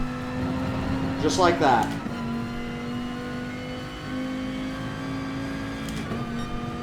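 A race car in GT Sport on the Dragon Trail Gardens circuit, accelerating at full throttle with a steady engine drone and a rising rev sweep, a person speaking briefly over it.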